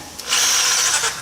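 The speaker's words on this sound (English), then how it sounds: "We'll just do a test drill here." A brief whirring burst from a power drill in drill mode, not hammer, spinning up for about a second, close and loud over a faint background hiss.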